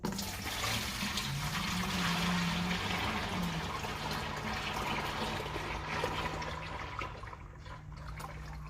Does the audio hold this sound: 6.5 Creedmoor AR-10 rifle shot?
no